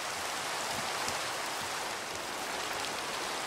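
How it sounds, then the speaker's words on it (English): Heavy rain falling in the Minecraft video game, a steady, even wash of hissing drops that continues throughout at moderate volume, with no voices over it. "It's raining so hard right now."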